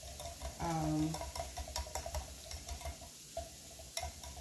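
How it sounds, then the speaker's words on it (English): Sauce whisked in a bowl, a light clicking and stirring patter near at hand, with a brief tonal sound early on and soft scrapes continuing throughout. "All right, so this is all whisked together."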